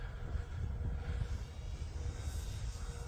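An E-flite Extra 300 RC airplane flies at full throttle outdoors, its engine a steady, fairly faint drone heard from a distance with wind-like rumble underneath.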